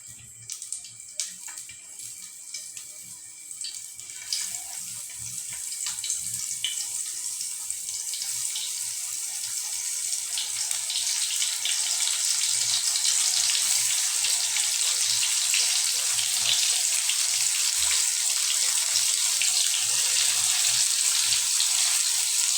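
Brinjal fritters (begun bora) fry in a little oil on a hot tawa, giving a steady hiss that builds and grows denser as they cook, close and continuous, with no talking.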